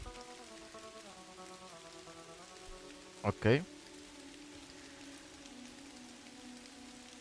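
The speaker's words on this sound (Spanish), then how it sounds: "Ah, no, sí está lloviendo." Steady rain falls in the point-and-click game Kathy Rain, a soft constant hiss under a droning musical score, with a brief spoken word and a short burst of noise midway.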